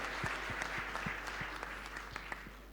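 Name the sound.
audience clapping hands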